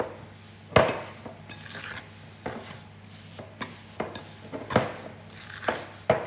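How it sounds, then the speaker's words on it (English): A fork mixes biscuit ingredients in a bowl, giving repeated clinks and scrapes against the bowl in an irregular rhythm, close and fairly clear with no voices. "properly with the fork and mix all the ingredients up together."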